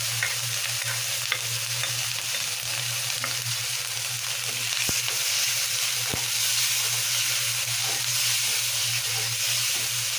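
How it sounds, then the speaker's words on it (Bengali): Ground tomato paste frying with browned onions in a pan, a continuous even sizzle and hiss lasting throughout, with occasional faint scrapes from stirring and a low steady hum beneath. "পেঁয়াজটা ভাজা ভাজা হয়ে গেছে, এখন আমি টমেটো বাটাটা দিব।"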